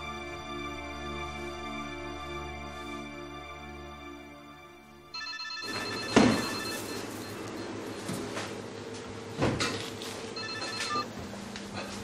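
Telephone ringtone playing in an indoor drama scene, a steady melodic ring for several seconds that then gives way to a louder, busier stretch with sharp clatters and knocks.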